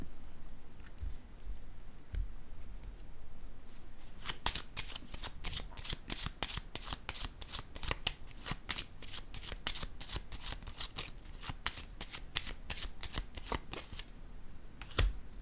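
Tarot cards being handled, shuffled and laid down: quiet soft card contact at first, then a long run of rapid, crisp riffling flicks up close, fading briefly near the end.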